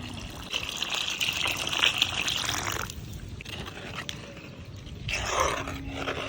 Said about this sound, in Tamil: வாட்டர்மெலன் தண்ணி ஊற்றிக்கலாம்.